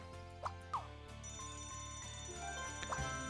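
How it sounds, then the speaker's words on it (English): Alarm clock ringing in the video game Scribblenauts Unlimited, a repeating electronic bell pattern in steady pulses with a few brief game effect chirps, no talking. "Next up is we're going to need an alarm clock."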